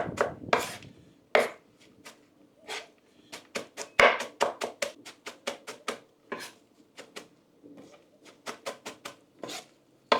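Repeated sharp knife chops against a pot while chopping and folding okra for goat okra soup, irregular bursts of clacks and scraping close by, with no talking.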